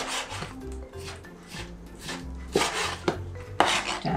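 A knife scores and slices squid on a cutting board in short rubbing strokes and light taps, close and moderately quiet, a few irregular cuts with sharper knocks near the end.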